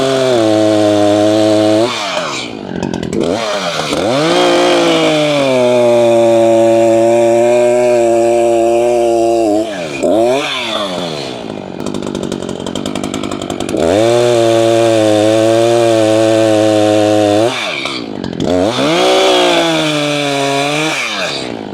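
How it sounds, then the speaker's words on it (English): Chainsaw cutting firewood logs outdoors, loud and close, its engine revving up and bogging down in repeated cycles as the bar bites through the wood, with brief idle dips between cuts. "I had good luck with all our chainsaws, but that hadn't been started in like 5 months"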